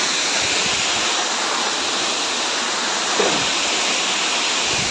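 Rani Duduma waterfall roaring as a loud, continuous broadband rush of falling water, steady and close for several seconds.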